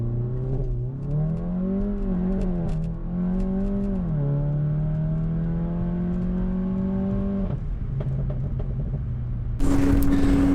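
An APR Stage 2 tuned VW GTI on launch control holds a loud, steady revving drone whose pitch wavers and climbs, settles into a sustained high-rev hold, then bursts into a harsh surge of acceleration at the end.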